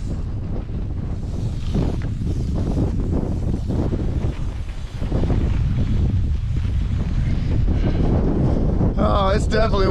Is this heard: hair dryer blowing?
no